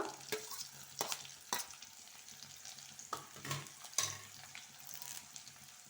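Chopped ginger goes into a hot pan for khara pongal, giving a soft sizzle with intermittent stirring scrapes and light spoon taps, quiet and close, with no voices.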